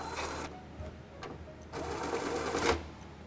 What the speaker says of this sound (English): Get these bolts snug, but do not fully tighten them.